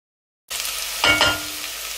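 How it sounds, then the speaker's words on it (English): Onions for a beef chili sizzling in a pan, starting abruptly after a short silence, then a steady close crackle with a louder burst of stirring. "I'm just going to cook these until the onions start to turn a little bit translucent"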